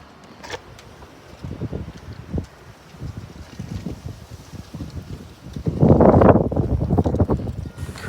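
Strong wind blows in Pittsburgh, Pennsylvania, buffeting the microphone in uneven gusts that build to a loud roaring surge near the end, with no talk.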